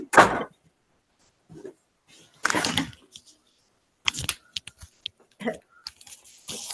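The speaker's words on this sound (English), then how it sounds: "here, I'll just shut the door real quick" A door is pushed shut indoors during a conversation, giving a firm thud and a few sharp knocks and rattles amid scattered handling noise, with no talk heard.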